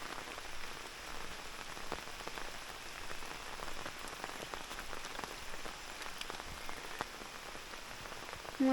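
Heavy monsoon rain pours down in the Konkan countryside beside a stream, a dense, steady hiss of drops striking surfaces throughout, with no voices.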